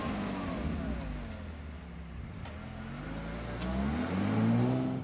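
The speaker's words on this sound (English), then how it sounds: "Let's go out and see what the launch control is like." A 2021 Bentley Continental GT Speed uses launch control at Silverstone, the engine note heard from inside the cabin climbing steadily through rising revs, with quick gear changes breaking the build, loud and close.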